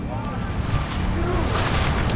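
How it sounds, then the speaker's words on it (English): Paddles splash and churn through the water as a raft crew strokes forward on the Zanskar River in Ladakh, a steady rush of water and wind noise with no clear individual strokes standing out. "paddle forward"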